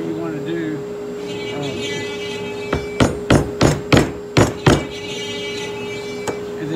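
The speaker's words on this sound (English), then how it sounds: "now you can put your pegs in with a hammer or whatever you want to do" Hammer strikes driving wooden pegs into wooden blocks in a glue-free block-and-peg build: a run of about seven sharp, evenly spaced knocks, close and loud over a steady background hum.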